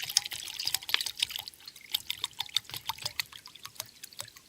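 Water poured into a one-liter camping mug on a quick forest rest stop, heard as faint, close splashes and irregular dripping, rapid trickling pulses with no talk.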